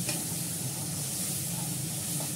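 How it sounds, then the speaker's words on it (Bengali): Whipped yogurt hitting a hot pan gives a loud, steady hiss and sizzle that stays even and close throughout, with no one talking. "এবার ফ্যাটানো দইটা দিয়ে দিচ্ছি।"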